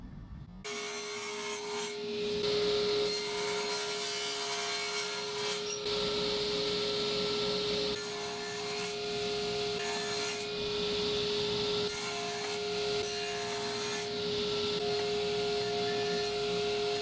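A wooden block is cut by hand with a steady, rasping back-and-forth sawing stroke that repeats evenly and close up, running continuously over a persistent faint background hum.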